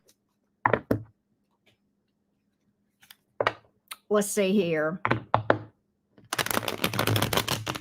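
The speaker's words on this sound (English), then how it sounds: "I need to shuffle again" Tarot cards are shuffled by hand in a dense rustling burst near the end, after scattered taps and knocks of cards on a table while a person speaks briefly.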